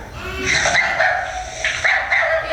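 A dog barks and whimpers close by in a run of high, yelping cries with short gaps, loud and with no talk over it.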